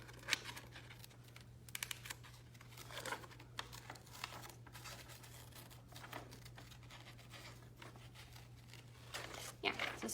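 Scissors cutting a paper dinosaur mask, soft snips and paper crinkles scattered through the clip under a steady hum, with a voice heard faintly at times.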